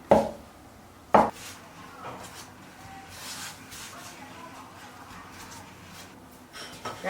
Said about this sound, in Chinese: 切成相等的份儿。